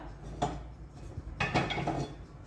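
Metal cocotte pot handled while cooking chicken, with a few soft clanks and knocks of cookware close by against a steady low kitchen background, no talking.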